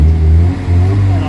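A Kia Pride's engine, troubled by white smoke, vibration and low power, runs with a rough, uneven idle-to-rev drone close by, briefly dipping midway before steadying again.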